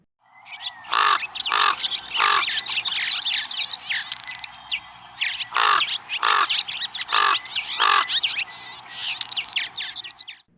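Loud, clear bird calls in bursts of repeated sharp chirps and squawks, grouped in short runs with brief pauses between.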